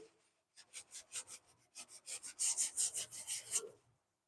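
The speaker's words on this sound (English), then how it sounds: "Sand some of this down." Sandpaper rubs over dried spackle on a DIY painted box, a steady run of back-and-forth rasping strokes that grow louder and quicker toward the end, heard close up with no talking.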